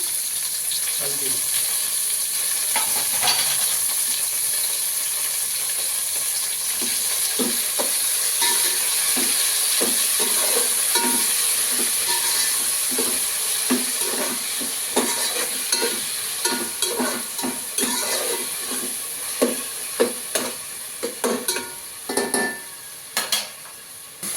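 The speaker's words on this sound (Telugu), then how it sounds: "థర్టీ సెకండ్స్ అయితే ఫ్రై చేశాను" Tomato and mint, with ginger-garlic, fry in a pan for chicken biryani, a steady close sizzle under repeated spoon scrapes and stirring knocks that grow more distinct toward the end.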